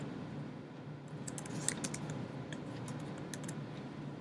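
Typing on a computer keyboard: light, rapid, irregular key clicks come through over a steady low background hum, quiet and close, with no talking.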